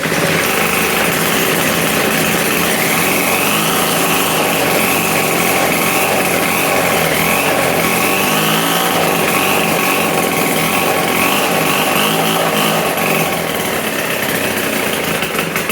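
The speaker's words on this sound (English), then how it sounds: "Yeah, the chainsaw blender." A 1960s chainsaw blender runs continuously, a loud harsh motor whine with a buzzing rattle that holds steady with slight pitch wavers, and no one speaking over it.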